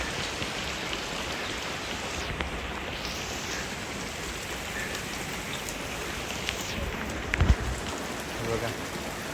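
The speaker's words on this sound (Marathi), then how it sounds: "एवढा पाऊस." Heavy afternoon rain pours steadily over a farm field, a dense, continuous hiss of drops close by, with one brief louder knock near the end and no clear talking.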